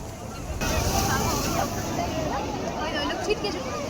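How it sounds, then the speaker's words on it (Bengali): Sea waves at Digha beach wash in as a steady broadband roar with wind buffeting the microphone, continuous and fairly loud throughout, with people speaking over it. "দেখ জলের ঢেউ দেখ,"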